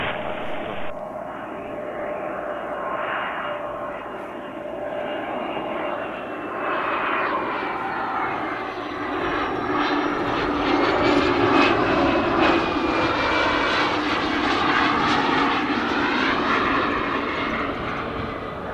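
Fixed-wing plane landing at Spirit of St. Louis Airport, its engine a steady, fairly loud drone that swells and shifts pitch as the aircraft passes close by; no talking.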